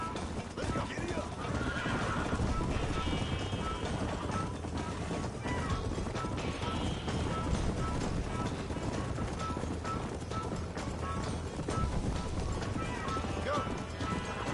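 Horse hooves clip-clop at a gallop with repeated neighs and whinnies in the Red Dead Redemption Western video game, a steady loud run under occasional game noise and a rider's voice.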